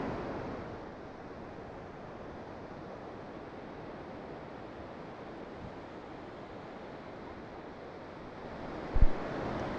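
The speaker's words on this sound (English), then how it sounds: "These gentle waves that lap our shores seem very normal and benign." Gentle ocean waves lap the shore in a steady, soft wash of surf with light wind noise, one brief thump near the end.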